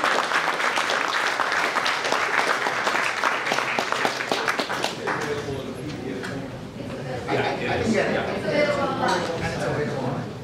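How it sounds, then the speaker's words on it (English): A seated audience at a speaker series breaks into loud, dense applause lasting about ten seconds, the clapping thinning slightly toward the end while voices murmur underneath. "Big round of applause."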